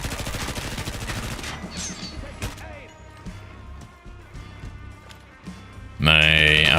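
SMG fire in the zombie game Dying Light, a rapid burst of shots up front that fades into sparse scattered sounds, then a sudden loud blast of noise at the end.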